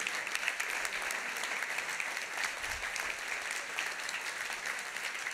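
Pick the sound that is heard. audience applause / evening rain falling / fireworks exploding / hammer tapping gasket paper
audience applause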